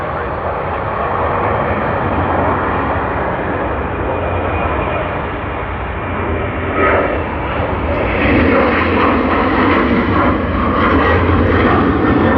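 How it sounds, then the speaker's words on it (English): An All Nippon Airways Boeing 787-9 Dreamliner jet at Sydney Airport produces a loud, sustained broadband engine roar that swells slightly toward the end, with a voice audible beneath it. "now we see the Tokyo Haneda service, All Nippon Airways Boeing 787-9 Dreamliner"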